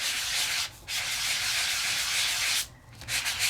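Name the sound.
Sizzix sanding block sanding embossed cardstock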